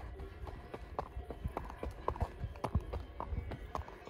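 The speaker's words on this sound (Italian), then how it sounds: "Guardate che fila di mucche piemontesi." A herd of Piedmontese cows walking in a line on an alpine pasture, their hooves clopping in an irregular, overlapping rhythm at close range, with faint background voices.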